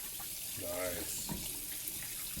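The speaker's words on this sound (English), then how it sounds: "Hot water takes off all the rest." Hot water runs from a tap, rinsing dye and paint off a spun bowling ball at a sink, a steady hiss of flow heard faintly with a brief voice over it.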